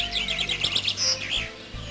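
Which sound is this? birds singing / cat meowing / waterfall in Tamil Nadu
birds singing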